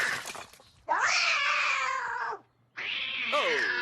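A cartoon cat meows in two long, loud, wailing cries separated by a short pause, with bright harmonic yowls close up and no other sounds.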